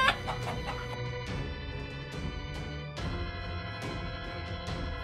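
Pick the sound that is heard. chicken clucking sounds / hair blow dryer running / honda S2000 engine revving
chicken clucking sounds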